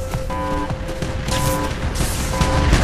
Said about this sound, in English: You're telling people with guns to stop shooting